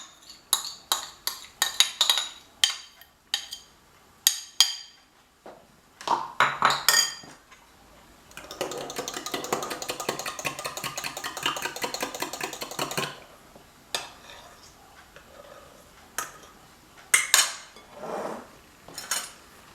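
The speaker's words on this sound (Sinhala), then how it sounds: "දැන් අපි මේ dry ingredients වලට අපේ මේ කිරි බිත්තර butter එකතු කරලා මෙහෙම හොඳට කලවම් කරගන්නවා" Milk, eggs and melted butter are mixed into dry ingredients for pancake batter in a bowl, with sharp utensil clinks and taps against the bowl, then a steady stretch of rapid whisking before more scattered knocks.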